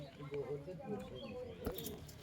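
Pigeons coo softly in a loft, a few low murmuring calls mixed with faint chirps and a brief flutter, heard under nearby talking.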